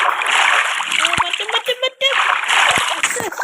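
A Minecraft character splashes through water, with bursts of loud splashing and sloshing at the start and end around a short pause, while someone talks over it.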